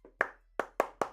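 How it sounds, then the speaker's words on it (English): Hand claps, one light tap followed by four sharp, fairly close claps at an uneven pace, with no talking. "Two claps for Terry"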